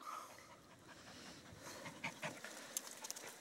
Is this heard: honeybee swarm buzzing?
no